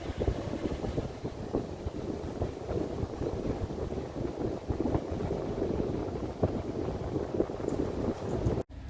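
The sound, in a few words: boat on the Ohio River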